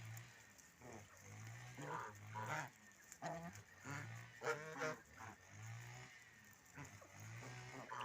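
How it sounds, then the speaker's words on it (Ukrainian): Seven farm geese honk and cackle in repeated bursts, fairly close, with no talking. "Є в нас семеро гусей."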